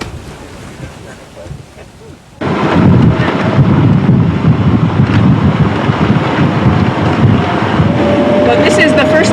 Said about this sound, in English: And somewhere in the distance is the sound of thunder.